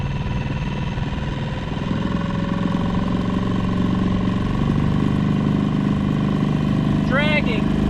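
Dinghy outboard motor running at half throttle while dragging an anchor during an anchor test, a steady close engine drone with a brief faint chirp near the end.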